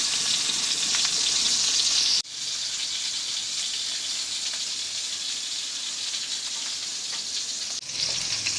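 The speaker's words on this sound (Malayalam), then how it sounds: "ചെറിയ തീയിൽ വറുത്തെടുത്താൽ മതി" Kerala-style pepper fish frying in oil in a pan over a low flame, giving a steady, close, bright sizzle that briefly dips twice and then carries on with no talking.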